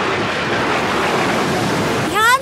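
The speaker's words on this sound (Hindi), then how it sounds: "लहरें बहुत ज्यादा तेज हैं।" Strong ocean waves in a cartoon rush in a loud, continuous roar of surf, ending in a brief rising swoosh.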